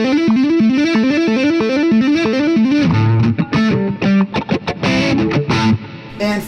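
Distorted electric guitar tapping fast 32nd-note runs in a repeating ascending pattern, loud and close, shifting midway into choppier, staccato bursts with brief gaps.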